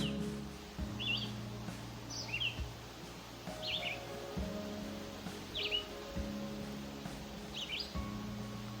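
A red-eyed vireo calls from the forest canopy in northern Minnesota in July, short high phrases repeated every second or two, fairly distant over a low steady hum and faint rustling.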